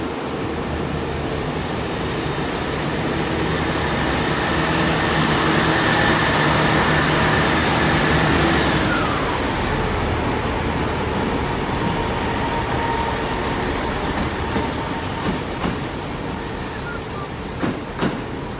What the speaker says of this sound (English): about to depart is the Great Western Railway service to Exmouth